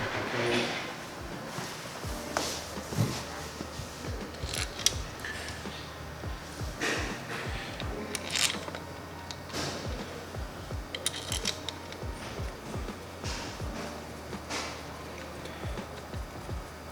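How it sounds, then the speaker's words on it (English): Oil pump housing bolts being run in on the engine of a 900 hp turbo Infiniti G35: repeated metallic clicks and ratchet-like ticks with small clinks of hardware, close and fairly quiet over a steady low hum. "So I'm gonna run the oil pump housing bolts in."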